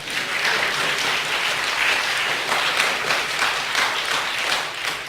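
A church congregation at a Saturday worship service breaks into sustained applause, a dense, loud wash of many hands clapping together that holds steady for several seconds without a break.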